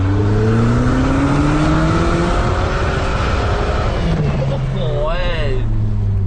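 A Mercedes-Benz SLK R172 revs loudly through an open aftermarket valved Euro Arts exhaust, pitch rising and falling in sustained sweeps, close and dominant throughout.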